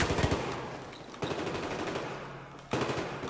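Bursts of automatic gunfire from a multiplayer tactical shooter match, loud and close with rapid rhythmic shots, breaking into three separate volleys.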